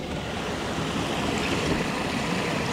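Steady rushing water from a stream beside a campsite, a constant broadband wash close to the microphone, loud and unbroken throughout with no voices over it.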